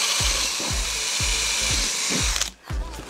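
Power drill driving screws in repeated short bursts, about seven quick whirs in a steady rhythm, fastening brackets and bolts onto a VW Polo rear spoiler; close and loud with no talk.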